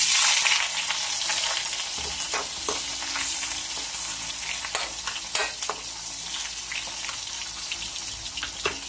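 Onions and mixed vegetables sauté together in a hot pan, a steady close sizzle with scattered stirring taps and clicks.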